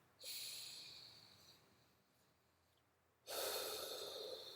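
Deep belly breaths during a qi gong preparation exercise: a long, close airy inhale, a quiet pause, then a second breath drawn in just as strongly.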